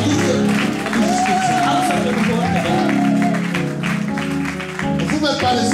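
A church congregation in Antwerp cheers and applauds God, a loud swelling mix of clapping and raised voices with sustained vocal tones running through it.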